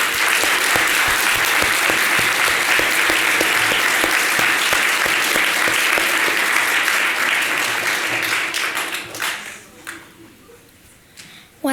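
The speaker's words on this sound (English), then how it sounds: "Please join me in a round of applause for all of them." A large audience claps steadily at a children's governor inauguration ceremony in Connecticut, loud sustained applause that fades out toward the end.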